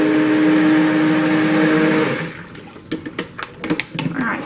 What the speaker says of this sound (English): I'm just going to clean my stick blender off